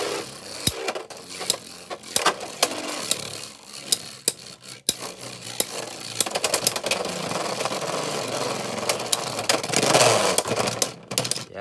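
A Beyblade X Knife Shinobi top spins and scrapes in a plastic stadium, giving a steady whirring grind with sharp clicking knocks against the walls. The scraping grows louder and rougher toward the end.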